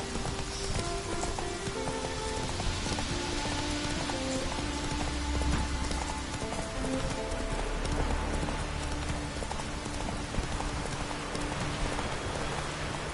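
Video-game hoofbeats from the horse Roach keep a steady clip-clop rhythm over a continuous hiss like rain, moderately loud and close, with no talk.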